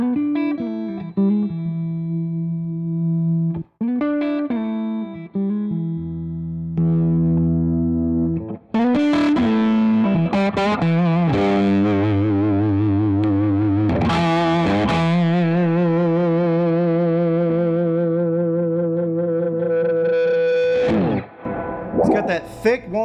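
Gene Baker B3 electric guitar played through effects pedals, with distortion and chorus, giving a thick, hollow-body-like tone: sustained chords and single notes ring out loudly and continuously, with no talking.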